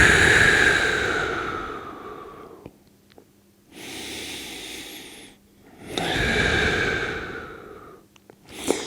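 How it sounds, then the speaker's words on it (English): Deep belly breaths are taken during a decompression stretch for a herniated disc, with long, loud, close inhales and exhales alternating with short quiet pauses. "deep belly breaths"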